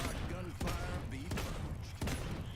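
Barik's weapon firing on the Hair Trigger talent in the Paladins game, three sharp bursts roughly a second apart over game audio and a talking voice.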